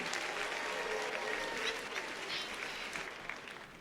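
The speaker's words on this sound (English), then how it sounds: "give it up once again for all of our Teachers of the Year for 2022" Audience applause for the district's 2022 Teachers of the Year at an awards ceremony, a dense steady wash of many hands clapping that fades slightly toward the end, with no talk over it.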